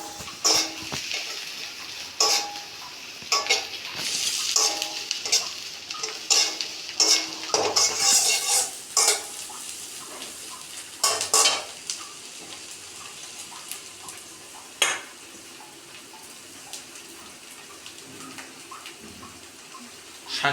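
Green chillies sizzle as they are stirred in a pan of curry paste for a Bengali tangra fish jhol, with repeated scraping stir strokes over a steady frying hiss and no talk.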